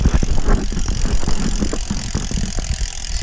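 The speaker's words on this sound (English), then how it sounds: "I'm going to spin my wheel again, each of the wheels" A road bike wheel spins in a mechanical whir with faint rhythmic rattling and ticking, close and steady throughout, with no voices.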